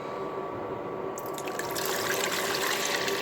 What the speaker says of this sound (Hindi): पहले ना इसके अंदर पानी डाल दूँ